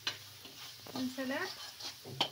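Ingredients seasoned with turmeric and salt fry in a pan while being stirred, giving soft sizzling and a few faint scraping strokes at a low level; a voice speaks briefly in the middle.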